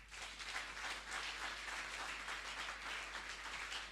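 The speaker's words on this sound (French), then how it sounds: "On acclame très fort le roi des rois." A church congregation claps and applauds loudly during a Sunday service, a dense and steady burst of many hands lasting the whole stretch.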